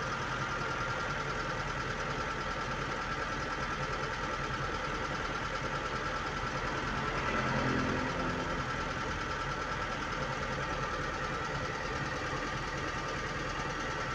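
A car engine runs at a steady elevated idle, its RPM held high by a faulty idle speed control valve, a continuous even drone with no speech throughout.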